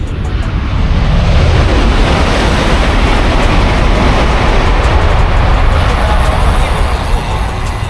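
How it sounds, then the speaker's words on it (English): A loud, steady rush of rumbling noise fills the whole stretch as a Chinese high-speed train roars past close by in Shenzhen with a windy whoosh, and no voices are heard. "the view of China's high-speed train going by"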